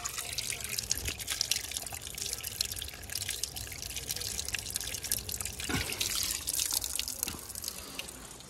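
Clear mountain spring water seeps down from the hills and trickles steadily as containers are filled, a close, continuous splashing with scattered drips and no talking.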